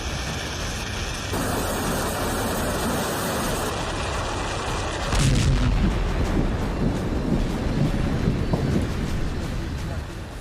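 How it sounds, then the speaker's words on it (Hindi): Russian army artillery fire during military exercises at the Ukraine border, a heavy rumbling roar with a deep boom near the middle, continuous and loud with wind-like noise, no talk over it. "यूक्रेन की सरहद पर रूस की फौज दुनिया को अपनी बारूदी ताकत का एहसास करा रही थी"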